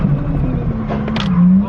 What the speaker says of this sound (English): It's having a boost leak. Maybe you can hear